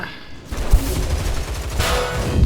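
A skill explosion in the online shooter Line of Sight sets off a loud, booming burst followed by rumbling blasts and crackling rapid fire. It sounds close and dense and keeps going to the end.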